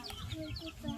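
Pink chickens in Tanzania give short, close clucks in a quick series over a brief stretch.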